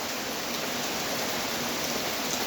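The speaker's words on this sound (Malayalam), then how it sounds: "മഴയാണ് സുഹൃത്തുക്കളെ" Steady night rain pouring down, an even, unbroken hiss of drops on surfaces, constant in loudness with no voices.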